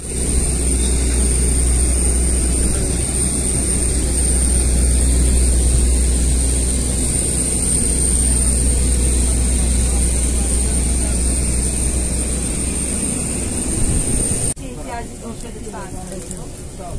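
Aircraft engines drone steadily at an airport while passengers board by the aircraft stairs, a loud continuous roar for most of the stretch that drops suddenly near the end, with people talking over it.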